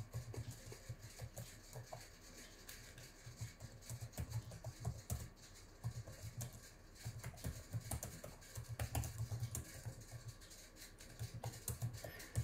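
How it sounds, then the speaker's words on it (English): Fingers type on a small netbook keyboard, producing a steady stream of quick, light key clicks, fairly faint and close, with no talking. "So here the typing speed is in so far acceptable as I do not sense any great delay between me typing and the letters appearing."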